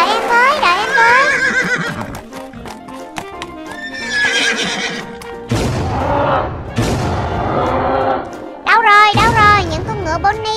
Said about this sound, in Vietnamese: Đâu rồi, những con ngựa Bonnie đâu rồi